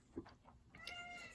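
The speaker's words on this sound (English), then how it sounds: "if you hear meowing, my cat is upset" A pet cat meows once, fairly close, with faint chirping from birds outside rising afterward over a quiet room.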